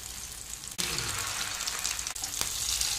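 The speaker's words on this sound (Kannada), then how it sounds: "ಎಣ್ಣೆ ಬಿಸಿ ಆಯಿತು. ನಾನು ಪ್ಲೇನಾಗಿ ಫ್ರೈ ಮಾಡ್ತೇನೆ" Marinated fish fries plainly in hot oil with no coating, a dense, hissing sizzle that runs steadily with a couple of brief dips, close up and with no voices.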